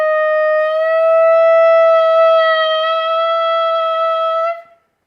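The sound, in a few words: clarinet glissando from Rhapsody in Blue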